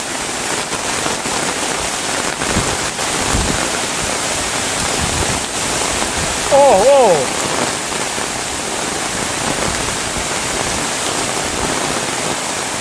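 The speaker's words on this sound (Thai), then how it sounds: "ฝนตกหนักในวันเลือกตั้งครับ" Heavy storm rain drums steadily and loudly on a corrugated metal roof, a dense continuous hiss with scattered sharper impacts throughout.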